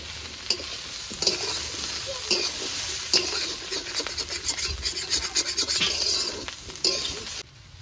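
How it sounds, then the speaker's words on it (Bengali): Young jackfruit sizzles steadily in hot oil with fried spices, while a spoon scrapes and stirs through it in repeated strokes, up close and without any voices. "এঁচোড়টা দেখুন কি সুন্দর ভাজা হয়ে গেছে তেলে খুব সুন্দর কষিয়ে ভেজে নিয়েছি"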